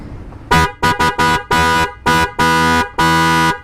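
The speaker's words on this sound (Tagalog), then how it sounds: "Ngayon ay magte-testing tayo ng busina" A loud passing horn installed on a motorcycle blares in seven close, sharp blasts, several quick short toots followed by longer sustained honks, with no voices.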